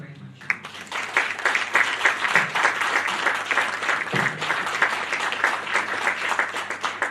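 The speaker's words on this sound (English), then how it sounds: "Please, a warm round of applause for Mrs." A moderately loud round of applause from an audience after a speech on climate change and the circular economy in Lagos, steady dense clapping with no words spoken.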